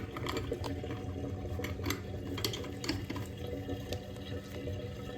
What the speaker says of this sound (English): you can hear it draining through the overflow